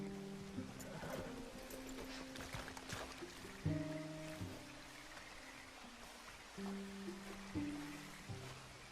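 Canoe gliding on a river in Red Dead Redemption 2, soft water lapping and paddle splashes under a gentle, sustained game music score.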